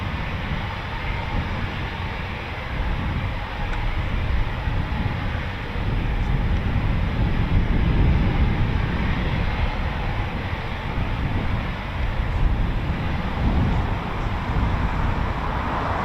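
Eurofighter Typhoon FGR4 jets taxiing at RAF Coningsby, a loud continuous broadband jet engine roar that holds steady and swells slightly, with no voices.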